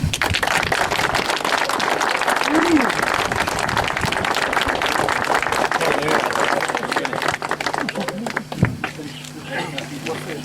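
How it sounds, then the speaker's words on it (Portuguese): A crowd applauds steadily for several seconds, the clapping dense and fairly loud, tapering off toward the end with a few voices and background noise. "Temos uma salva de palmas."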